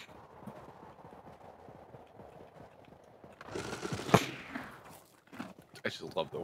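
Horse hooves clip-clopping at a steady walk in the video game Knightfall: Rodeo Drift, soft and rhythmic at first, then louder with a sharp crack midway, with a voice talking at times.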